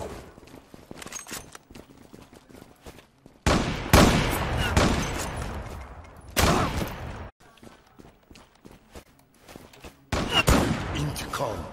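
Sniper rifle shots in the video game Zula: a few heavy, booming reports spaced several seconds apart, each with a ringing decay, over steady quieter footsteps and small game noises.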